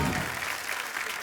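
A studio audience on The Kapil Sharma Show bursts into loud applause welcoming Punjabi superstar Diljit Dosanjh, a brief, thick roar of clapping that starts strong and stays full.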